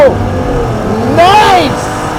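A 2016 Cadillac ATS-V's twin-turbo V6 revs hard to 3,500 under launch control and surges as the car launches at Circuit of the Americas, its pitch sweeping up and down nearby while a person talks over it.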